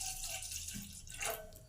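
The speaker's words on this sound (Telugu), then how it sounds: "దీంట్లో కొద్దిగా నీళ్ళు పోసుకున్నాము" Water poured into a cooking pot sitting on a stove, a short close splashing pour that swells briefly near the end.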